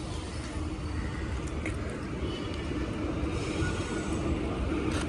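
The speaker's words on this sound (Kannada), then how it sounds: "ಬಾರ ಮಗ, ಟ್ರೈನ್ ಬಂತಲ್ಲಿ" A train pulls into Katpadi railway station with a steady, loud rumble and clatter of rolling wagons that holds evenly throughout, with no voices.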